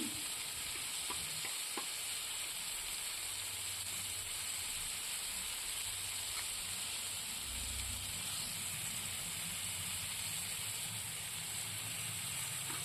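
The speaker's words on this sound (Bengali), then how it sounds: "প্রথমে পাঁচ ফোড়ন দিয়ে দিলাম শুকনো লঙ্কা দিয়ে দিলাম" Panch phoron and dried red chillies sizzle in hot oil, a steady, even hiss that runs unbroken throughout with faint clinks of a spoon beneath.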